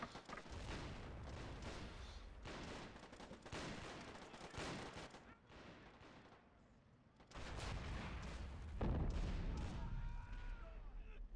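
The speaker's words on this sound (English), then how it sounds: "Swaghound auto engages with its rockets" Rocket fire from a Swaghound vehicle in a realism tournament match of a World War II strategy game, dense bursts of gunfire and booming launches layered over continuous battle noise, loud and sustained, with a voice talking over it.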